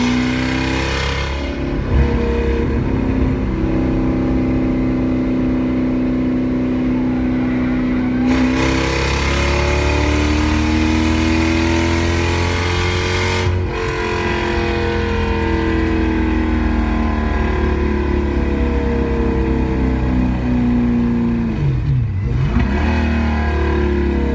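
A supercharged 1UZ V8 in a Toyota Soarer drift car, loud and close, holding a rough idle with uneven gurgling and several revs rising and falling over about 24 seconds, no voices.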